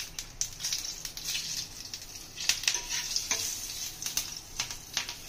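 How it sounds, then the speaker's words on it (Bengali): Nigella seeds and green chilies crackle and sizzle in hot oil, a steady hiss broken by sharp pops and stirring clicks, close and fairly loud with no voices. "আমরা কালো জিরে ফোড়নে দিয়ে দেবো।"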